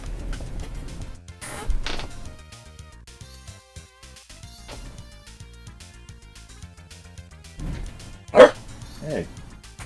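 A dog barks in a few sharp, scattered bursts, nearby and fairly loud, over a quiet indoor background with some talk.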